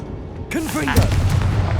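A Confringo fire spell in the Hogwarts Legacy video game bursts with a sharp explosive boom that rolls into a rumbling blast, following rising whooshing spell effects, with game sounds continuing underneath.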